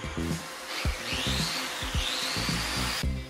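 Steady whirring drone of a power sander with a dust-collection vacuum hiss, punctuated by repeated scraping thumps as it moves across a skim-coated drywall surface.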